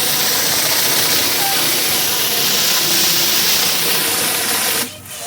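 A 5.5 gpm pressure washer runs with a surface cleaner, giving a loud, steady, broad hiss of spraying water that drops away abruptly just before the end.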